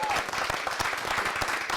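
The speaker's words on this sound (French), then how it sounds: "Applaudissements pour Pamtaba" Studio audience applause for a guest on a French-language television talk show, a steady dense patter of clapping throughout with no pauses.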